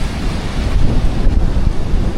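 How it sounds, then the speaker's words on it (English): Storm waves crash relentlessly on the coast at Nha Trang, Vietnam, during a slow-moving storm surge, a steady loud roar of surf mixed with gusting wind buffeting the microphone, with no voices. "This slow movement allowed the storm to linger longer near the coast, allowing waves to continue crashing relentlessly."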